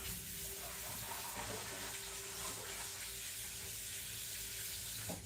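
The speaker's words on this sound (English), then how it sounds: "So I have rinsed up all my cranberries." Running water pours steadily over 12 ounces of fresh cranberries being rinsed, a continuous, close, moderately loud splashing rush that goes on without pause.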